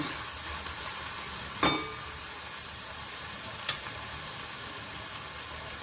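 Minced meat with peas and fenugreek leaves sizzles steadily in a pan as it is sautéed, a soft continuous frying hiss broken by a couple of sharp clinks of a spoon against the pan.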